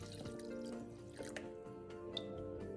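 Clean water pours steadily into a cooking pot over peeled cassava chunks in a home kitchen, a continuous liquid splash and trickle heard up close with faint background hum and no talk.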